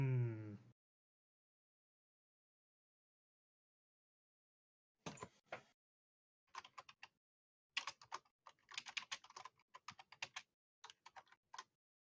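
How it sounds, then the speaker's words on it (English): Loud keyboard typing comes in irregular bursts of clacking keystrokes, alone and close, after a brief low sound at the start and several seconds of silence. "That's a loud mechanical keyboard."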